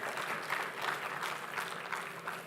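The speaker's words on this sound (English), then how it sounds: "a loud round of applause" An audience at a tech talent conference hall gives a steady round of applause for two speakers, dense clapping throughout at a moderate distance.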